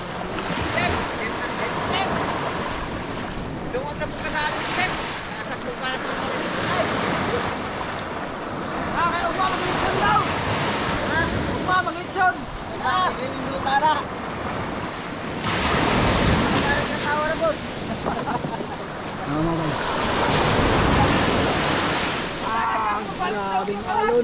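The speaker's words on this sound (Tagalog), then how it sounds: "Grabing alon." Ocean waves surging and crashing near a boat at sea, a steady roar with periodic louder swells and wind buffeting, while people talk over it.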